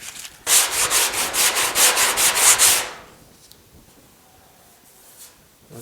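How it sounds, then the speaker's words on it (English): Rhythmic rasping strokes of sanding a coated steel car fender on a Pontiac GTO restomod, about a dozen quick back-and-forth passes close up, wearing through to bare steel, then the scraping stops and it goes quiet. "let's try sanding it"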